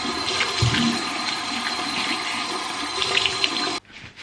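Running tap water pours steadily and close while soap is rinsed off a face at a sink, a continuous splashing rush that cuts off abruptly near the end.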